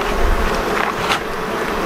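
A thick, continuous drone of honeybees buzzing close by after being shaken from a hive frame, steady and loud with no talking.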